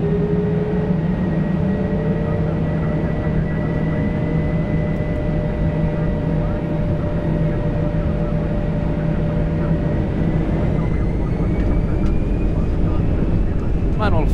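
Saudia Airbus A320 airliner on its takeoff roll out of Jeddah, a steady loud engine roar with a rising whine heard from the cockpit, constant throughout under occasional crew talk.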